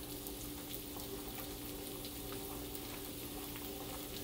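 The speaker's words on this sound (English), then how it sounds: "it's just starting to sizzle now over the bubbling water" Smoked sausage sizzles steadily over bubbling water, a constant, even hiss with no voices.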